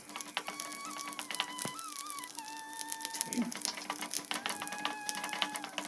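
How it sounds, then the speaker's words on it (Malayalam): Grated coconut and chopped cashews fry in ghee with a steady soft sizzle, punctuated by light stirring clinks and scrapes in the pan, close and continuous. "നെയ്യ് ഒഴിച്ചിട്ട് അതിലേക്ക് തേങ്ങ ചെറുതായിട്ട് കൊത്തി അരിഞ്ഞതും പിന്നെ കശുവണ്ടി ചെറുതായിട്ടൊന്ന് മുറിച്ചതും കൂടി നന്നായിട്ട് ഇങ്ങനെ ഒന്ന് വരട്ടിയെടുക്കണം"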